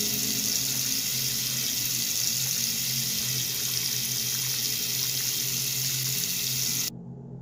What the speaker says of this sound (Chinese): 那么先来洗一下脸吧